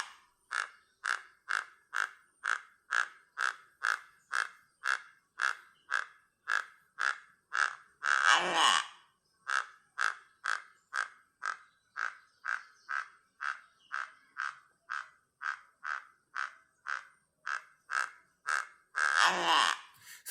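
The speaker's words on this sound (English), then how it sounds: "I'm gonna stop the music and play the call of hornguan for you guys." A recorded alarm call of the horned guan, a bird of Guatemala, repeats as a steady series of short, rhythmic croaking notes. The calling is broken twice by brief, harsher bursts.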